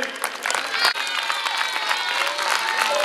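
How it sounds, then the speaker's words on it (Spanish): Schoolchildren at Griseras school in Tudela applaud, a lively patter of many small hands clapping close by, mixed with a few cheers and crowd noise. "fuerte aplauso para él."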